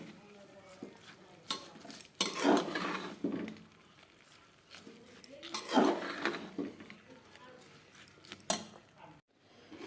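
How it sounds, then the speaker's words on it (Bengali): Khichuri stirred in a pot with a spoon, giving repeated scraping and clinking strokes of metal against the pot in irregular bursts, close by, with soft talk faintly in the background. "খিচুড়িটা এখন নাড়াচাড়া করবো।"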